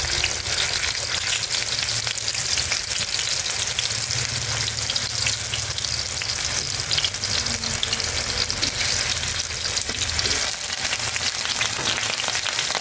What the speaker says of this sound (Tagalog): Matunog-tunog ang talsik ng mantika.